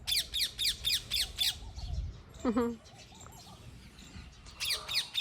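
A parrot gives repeated harsh, raspy squawks in quick bursts, pauses while softer calls sound, then squawks again.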